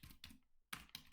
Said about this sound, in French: il suffit d'aller dans la cellule et de taper directement au clavier